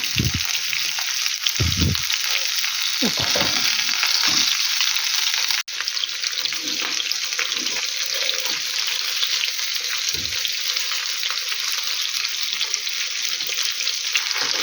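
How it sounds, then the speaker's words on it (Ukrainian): Hake fish fries in a pan over below-medium heat, a steady dense sizzle filling the whole stretch, with a few low clunks and knocks of handling near the start and a brief break midway. "Я смажила її 7 хвилин з однієї сторони."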